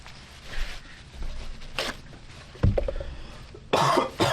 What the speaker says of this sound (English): the milk bubbles, so I'm coughing